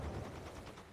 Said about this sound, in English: Sucks that Matthew Moose is in the middle of all this gunfire, though